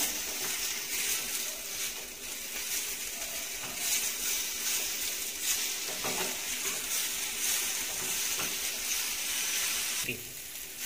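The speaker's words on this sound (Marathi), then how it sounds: "आलं आणि लसूण घालायचं आणि टोमॅटो घालायचं। ते थोडं 1-2 मिनिटच परतून घ्यायचं आपल्याला" Ginger, garlic and tomato sautéing in a pan for chole masala, a continuous sizzle and fry with occasional stirring scrapes, moderately faint throughout.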